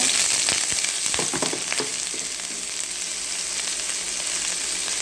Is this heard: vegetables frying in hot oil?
yes